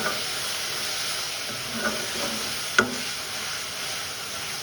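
Chopped vegetables are sautéed with asafoetida and salt in a pan, a steady, soft frying hiss broken by a couple of clinks from a stirring spoon. It is close but fairly quiet, with no talking.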